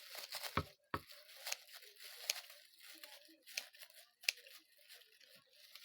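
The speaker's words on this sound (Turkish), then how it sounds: "poşetlerimi küçük küçük böyle keselim." Scissors snipping plastic bags into small pieces, giving a series of quiet, irregular crisp cuts and crinkles spaced about a second apart.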